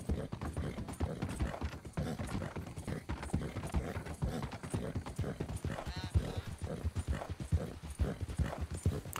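Horse hooves clip-clop in a steady, quick rhythm in Red Dead Redemption 2 while someone talks continuously over them.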